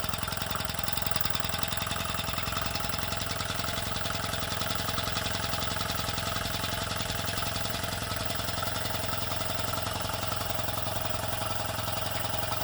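RW-BL1K miniature steam engine running steadily at about 1.5 on the pressure gauge, driving a Blue Thunder Jenny; a continuous, even mechanical chugging and whirring holds constant throughout, with no talk.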